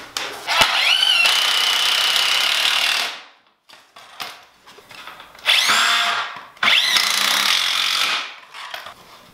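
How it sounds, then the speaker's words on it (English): A cordless power drill drives screws into a wooden shelf frame in three separate bursts, each whining up in pitch and grinding for a second or more, with quiet pauses and light handling clatter between. "as I drive in the screws"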